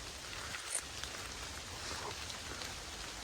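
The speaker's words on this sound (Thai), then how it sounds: "ตอนเนี้ยคือตัวผมเนี่ยเปียกไปด้วยเม็ดฝนนะครับ" Steady rain falling outdoors in a wet forest setting, a continuous broadband hiss of drops close around the listener, with no voices.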